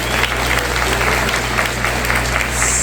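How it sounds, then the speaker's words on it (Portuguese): A church congregation applauding during a sermon, steady dense clapping from a crowd throughout, loud and close with a low hum underneath. "Você pode aplaudir o Senhor por isso."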